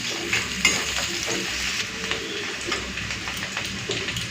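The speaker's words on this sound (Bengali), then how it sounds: "তো পেঁয়াজটাকে হালকা ভেজে নিচ্ছি" Steady sizzling of chopped onions lightly frying in hot oil, with an occasional scrape of stirring, fairly loud and continuous with no talking.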